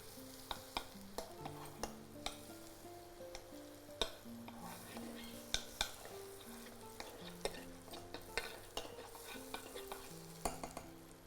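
About 10 grams of butter melts in a pan for a South Indian banana dish, giving a faint, soft sizzle with scattered light clicks of a spoon stirring, under a quiet melodic tune.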